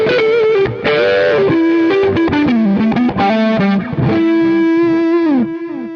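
Electric guitar through an overdrive pedal stacked into a Mr. Jax drive pedal, a quick distorted riff of picked notes and bends ending on a held note, loud and up close with no talking.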